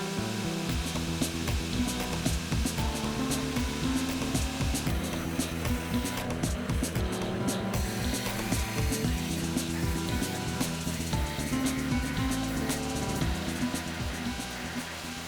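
Grinding a Damascus steel chef knife blade on a grinder: continuous abrasive whine with constant scraping texture and small fluctuations as the blade is worked, steady and close with no voices.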